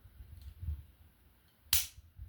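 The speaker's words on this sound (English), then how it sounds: "I just took 3 shots there, and it didn't cost me anything but the snap cap" A handgun fitted with a snap cap is dry-fired, giving a single sharp near click that stands out in a quiet room after faint handling noises.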